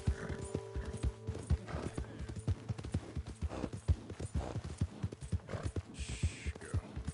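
Steady clip-clopping of horse hooves at a walking pace in the video game Red Dead Redemption 2, close by, with low rumbling ambience and a brief whinny-like sound near the end.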